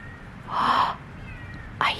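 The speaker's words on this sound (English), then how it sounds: "We've been trying to find this kitten." A small kitten gives a drawn-out meow, then a shorter, sharper cry a second later, both close and clear against quiet surroundings.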